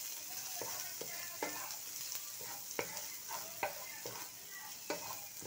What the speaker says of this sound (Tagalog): pagkatapos natin maggisa ng sibuyas at bawang